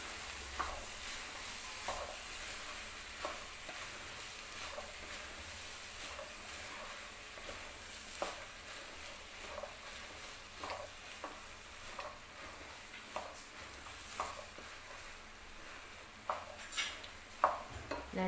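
A spoon scrapes and knocks against a cooking pot in steady, uneven strokes while food is stirred over low sizzling, with faint metallic clinks scattered throughout and no one speaking.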